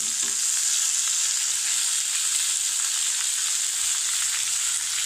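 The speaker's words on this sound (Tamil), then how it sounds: "அப்புறமா தக்காளியை போடணும்." Tomatoes fry in a pan for dhal curry, giving a steady, loud, close sizzle with a faint stir at the start and no talking over it.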